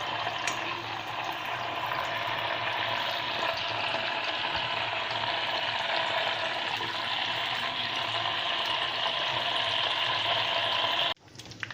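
Herbal hair oil simmers in a pot on a stove, giving a continuous bubbling sizzle that holds steady at close range and stops abruptly near the end, with no talking.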